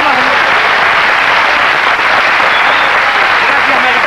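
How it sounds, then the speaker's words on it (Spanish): An audience at a bolero singing contest applauds a contestant, Mariquita, with a dense, steady wash of clapping that stays loud and unbroken from start to finish. "Aplaudimos de nuevo a Mariquita, aplaudimos de nuevo"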